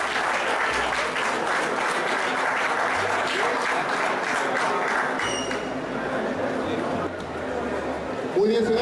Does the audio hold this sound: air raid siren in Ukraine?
no